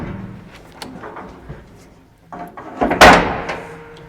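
Metal stud doors on a custom 4-Star 2+1 horse trailer swing and latch, with scattered clanks and rattles followed by one loud close slam and a lingering metallic ring.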